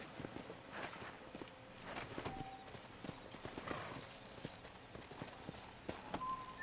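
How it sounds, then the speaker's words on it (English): Horse hooves clip-clop steadily at a walking pace in the Red Dead video game, close and fairly loud over a busy ambient background, with a few faint tonal game sounds. "Let me hitch my horse."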